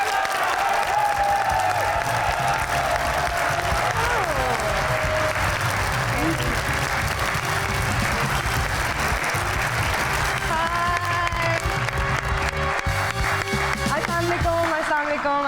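A studio audience on a Pakistani TV talk show, Mind Na Karna, breaks into loud, sustained applause for arriving guest Anoushay Abbasi, dense clapping with some cheering and music running steadily throughout.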